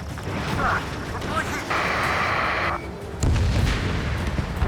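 Missile strike and explosions in the jet-combat video game Ace Combat 7: Sky Unknown, with a rushing engine-like roar and a sustained hiss, then a loud heavy blast near the end, all under radio chatter.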